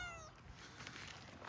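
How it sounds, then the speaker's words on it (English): A cat gives a short, faint meow close by, heard alone in a quiet outdoor garden. "Hey, Mr. Kitty."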